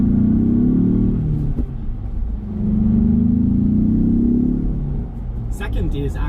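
A Ford Bronco's 2.7-liter twin-turbo V6 pulls hard under acceleration, a loud, steady low engine drone rising and easing in two swells, with a brief higher burst near the end.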